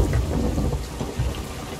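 A storm rolls over the sea in the pirate game Sea of Thieves, with heavy rain hissing steadily and low thunder rumbling loud and close throughout.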